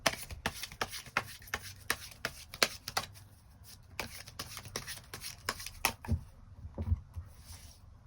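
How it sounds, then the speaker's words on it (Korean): Tarot cards being shuffled and drawn: a quick run of crisp, close flicks and slaps in an irregular rhythm, with softer rustling near the end and no talking. "추가 카드 두 가지 뽑아보도록 하겠습니다"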